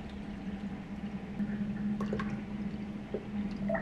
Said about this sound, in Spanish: lo voy a llenar de agua hasta la línea máxima